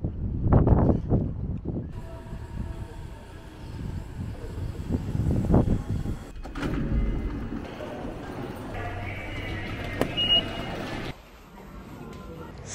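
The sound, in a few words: train arriving at a station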